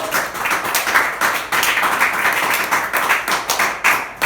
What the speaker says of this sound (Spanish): Vamos a aplaudir a eso.